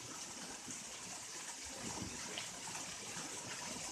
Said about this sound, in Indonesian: Di air terjun.